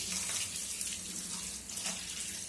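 A kitchen tap runs steadily into a sink while kitchen cloths are washed, a continuous rushing splash with small shifts as the cloth moves under the stream, close and alone.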